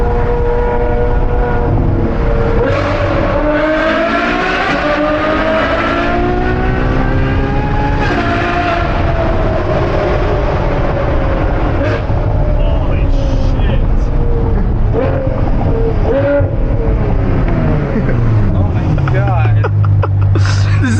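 A straight-piped Ferrari V12 revs hard and loud, climbing and falling through several sweeping pulls before settling into a low burble, with excited voices talking over it.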